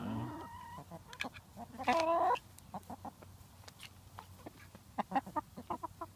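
A hen that cannot see clucks and pecks at a cricket offered to her, giving soft scattered clucks and short taps near at hand, with one louder, longer squawk partway through.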